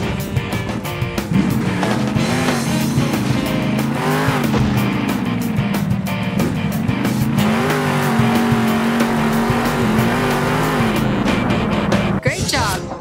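A monster truck in the video game Monster Jam Steel Titans drives with a loud, steady engine drone that rises and falls, tires squealing and skidding throughout, with a spoken voice over the engine.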